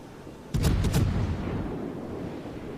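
Naval guns of the cruiser Aoba firing a salvo in World of Warships, a loud rumbling burst of several close shots followed by a fading low boom.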